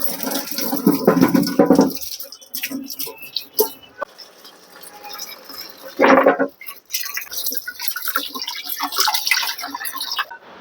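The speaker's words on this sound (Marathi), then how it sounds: "आणि हे तेंडली सर्व धुवून" Ivy gourd (tondli) is washed under running water, with splashing bursts, dripping and patter, while someone talks over it.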